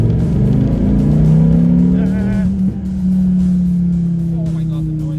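A 2015 Dodge Viper SRT V10 engine holds a deep, loud idle and then rises in a brief rev before settling back, with a voice briefly audible.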